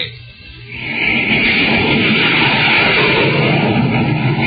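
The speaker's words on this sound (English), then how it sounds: "You're listening to the blazing roar of a jet plane." A loud, steady roar of a jet plane swells up after a brief quieter start and holds as a broad, rushing wash of noise.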